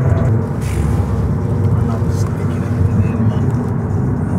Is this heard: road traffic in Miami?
yes